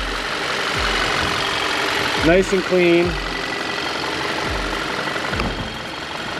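A 2015 Volkswagen Tiguan engine idles steadily under an open hood, a smooth, even hum close to the listener with faint periodic ticks, while someone speaks briefly partway through.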